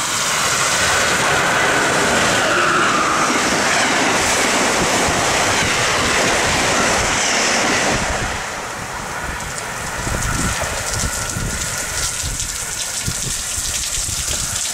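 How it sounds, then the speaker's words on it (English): A train passes on steel rails through rain on a stormy summer day, its loud rushing roar filling the first half and easing after about eight seconds while the steady rain wash continues underneath, with no voices. "A train in the rain."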